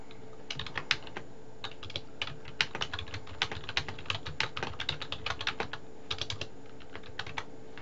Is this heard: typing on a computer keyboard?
yes